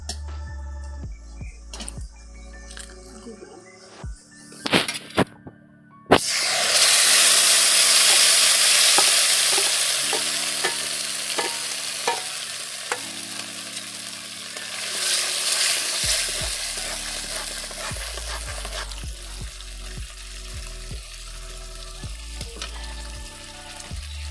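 Garlic and onion hit hot oil in a pan that already holds fried dried chillies, bursting into a loud, steady sizzle with scraping stirs over it. Quiet clinks and taps come before the sizzle.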